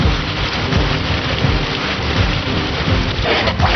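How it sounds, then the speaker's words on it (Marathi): Cloudburst-like downpour in Nanded city pours down as a dense, loud and steady roar of rain with a low rumble underneath, constant throughout with no voices. "नांदेड शहरात ढगफुटी सदृश पाऊस झालाय"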